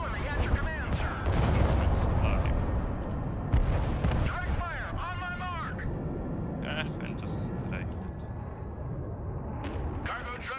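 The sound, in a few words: artillery fire in the video game Broken Arrow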